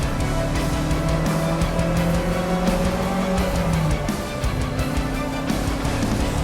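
An Alfa Romeo brakes hard and corners on a race track. A loud, close engine drone shifts in pitch through the corner over a constant rumble of road and tire noise, with no talk.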